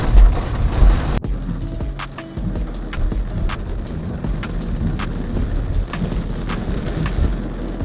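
Steady rain falls with a dense hiss, with sharper drops spattering on a surface throughout.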